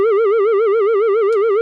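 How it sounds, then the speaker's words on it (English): A Roland SH-3A synthesizer holds one steady tone with vibrato, its pitch wobbling in a fast, even cycle throughout, loud and alone, with a brief noisy blip near the end. "We have control over vibrato, which is frequency modulation of the oscillator."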